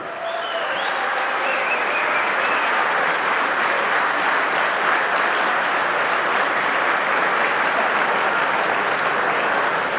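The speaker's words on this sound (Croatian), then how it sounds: "Veliki, gromoglasni pljesak za gospodina Ivicu Kožula." Thunderous applause for Ivica Kožul fills a hall at a company's 30th anniversary celebration, a dense, steady clapping from a large crowd lasting without a break.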